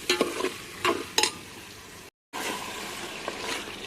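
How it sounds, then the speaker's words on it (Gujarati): Spice tempering of coriander-cumin masala with green peas sizzling in a pan, a steady soft hiss with a few louder stirring clatters near the start and a brief dropout midway. "અને થોડી વાર વઘારને આપણે પાકવા દઈશું"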